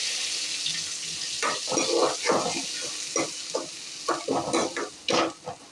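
Onions, garlic, curry leaves and green chili sautéing in hot oil, a continuous sizzle broken by repeated scraping stirs of a spoon in the pan, close and fairly loud.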